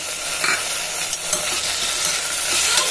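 Mint and tomato sautéing in a pressure cooker give a loud, close, steady sizzle broken by short scraping stirs, with no talk.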